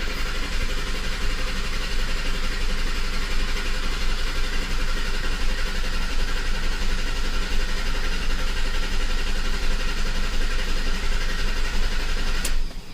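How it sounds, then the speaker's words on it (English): A 2007 Ford F-150 4.6L V8 engine idles steadily and loudly with a misfire fault, a constant mechanical drone and rattle with no change in pitch throughout. "I'll crank the engine for 10 seconds."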